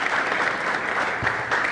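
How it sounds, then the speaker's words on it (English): An audience claps loudly and steadily as a panel joins the stage, a dense continuous wash of applause from a crowded hall, with no speech over it. "A round of applause,"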